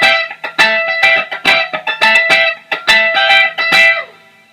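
A dry funk lead guitar part, played with no delay effect, with choppy rhythmic strummed and muted stabs in a quick syncopated pattern, loud and close with no talking.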